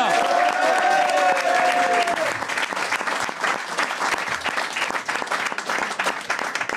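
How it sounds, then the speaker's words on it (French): An audience at a French comedy show applauds as a reggae performer is introduced, with dense clapping and some vocal sound over the opening two seconds, then steady applause continuing throughout. "On applaudit Jean-Jacques Rasta."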